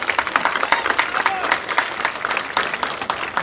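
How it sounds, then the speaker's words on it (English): A crowd claps steadily and loudly throughout at a high school graduation, a dense wash of applause from a large audience with a few voices mixed in. "So can we give them a big round of applause?"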